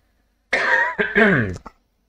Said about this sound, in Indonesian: Mohon maaf, lagi batuk.